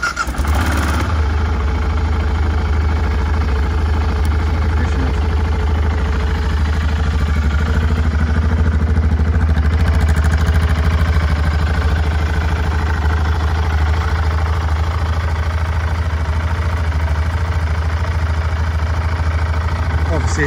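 A 2003 BMW F 650 GS motorcycle with about 1,025 miles idles steadily and close by, its low, even engine rumble running unbroken with a light mechanical clatter on top.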